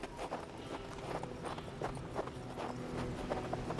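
In Hard West II, horse hooves clop in an even walking rhythm, close and clear, repeating steadily throughout with no voices.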